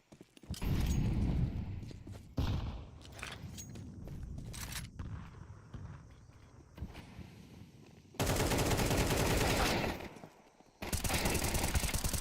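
Pistol gunfire during a competitive Counter-Strike-style match, heard as a series of sharp shots and clattering bursts over busy game noise, with dense loud stretches near the end.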